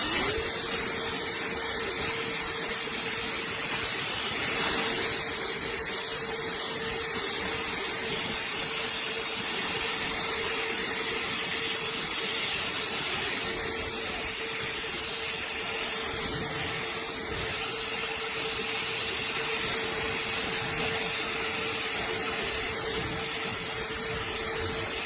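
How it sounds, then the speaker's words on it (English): A WORX Nitro cordless battery-powered leaf blower runs continuously with a loud, close, steady high-pitched whine and airy rush, holding constant for the whole stretch with no talking. "I think that's not too bad for a very lightweight battery-powered blower."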